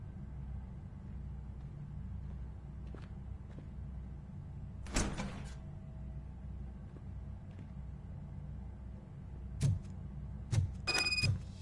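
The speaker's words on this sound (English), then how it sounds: "Now let me get that door open for you." Door in the RoboCop: Rogue City video game opens with a sharp mechanical burst over a low ambient rumble, followed later by several short clanks and a brief high electronic tone.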